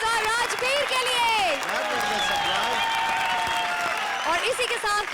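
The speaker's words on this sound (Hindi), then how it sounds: "जोरदार तालियां विनोद और राजवीर के लिए" A studio audience at a comedy show claps loudly and continuously for a performing pair, with a host's voice talking over the applause throughout.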